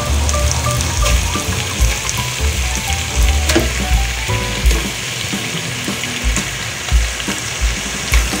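Chicken pieces sizzle and crackle loudly in a hot pan after ginger, a dense continuous frying hiss with occasional stirring clatter.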